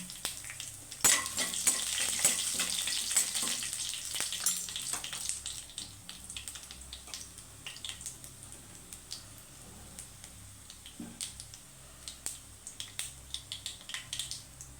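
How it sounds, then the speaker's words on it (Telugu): Cumin and cut dried red chillies fry in hot oil for a tempering, along with chana dal and urad dal, giving a loud close sizzle at first that settles into crackling with sharp pops and stirring, with no talk. "జీలకర్ర, తాలింపు వేగాలండి. ఇదిగోండి, ఎండుమిరపకాయ అండి, ఇట్లా కట్ చేస్తే వేసుకుంటున్నాను"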